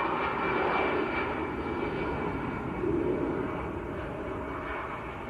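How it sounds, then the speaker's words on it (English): A German PC-24 business jet arrives at Manchester Airport, its engines making a steady, broad roar that swells slightly midway and then eases off, heard alone at a moderate distance. "we've got a German PC-24 coming in"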